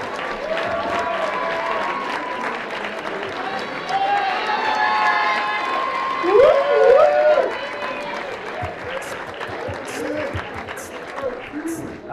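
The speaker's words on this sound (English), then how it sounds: "So big round of applause for Kayla Katzman and Ronak Verdi." Applause and cheering fill the room at a youth awards dinner as scholarship winners are honored: sustained clapping with voices and a brief whoop partway through, and people talking under it.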